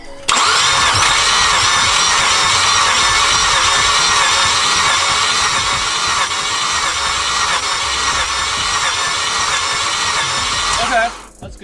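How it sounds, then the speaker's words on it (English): A Mazda FD RX7 rotary engine cranks on the starter during a compression test on the rear rotor, a loud, close, continuous whirring drone for about ten seconds that cuts off abruptly at the end. "We're gonna crank it up and see what happens."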